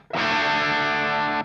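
An electric guitar played through a 100W Blackstar Series One Mk II amp on the crunch channel, with gain and volume set about halfway, rings out one sustained, overdriven chord for just over a second before being cut off.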